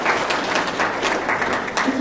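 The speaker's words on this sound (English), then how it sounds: "Yes, you can clap for them too." A round-table meeting audience clapping for standing staff members at West Texas A&M, a short, dense burst of applause with voices underneath.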